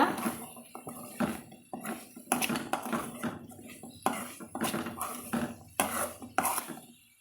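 Metal utensil scraping and clinking against a pan in repeated strokes while stirring a vegetarian pepper fry, close and fairly clear, with a little background noise between strokes.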